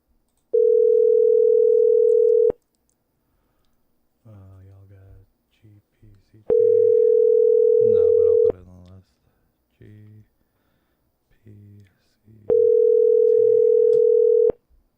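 A phone call rings out in three long tone bursts at even intervals before going to voicemail, with short stretches of talk in the gaps between them.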